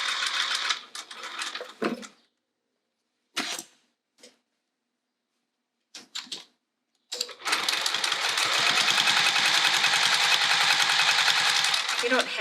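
A slightly clunky domestic sewing machine needing a new needle and oil, starting after scattered short bursts into a long, steady, rapid whirring run of stitching, close and loud, with a voice heard briefly before it.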